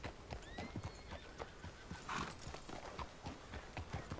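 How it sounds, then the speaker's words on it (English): A horse in the video game Red Dead Online trots with steady, rhythmic hoof clip-clops and gives one clear whinny partway through, close and fairly quiet with no talking. "And meet my first horse, Joanna, who definitely was not stolen."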